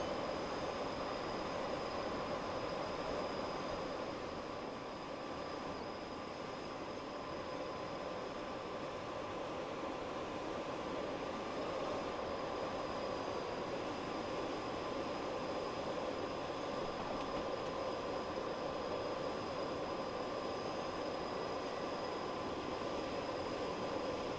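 A model train locomotive in BR blue livery running steadily along its track, a continuous even rolling rumble with a faint high whine, close and unbroken, with no voices.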